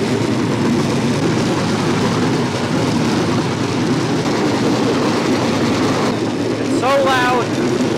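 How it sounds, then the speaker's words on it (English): A bamboo train rattles along the rails near Battambang, Cambodia, a loud constant roar of wheels and wind heard close up from onboard, with a brief voice rising over it near the end. "I'm gonna take you on a short ride on a bamboo train"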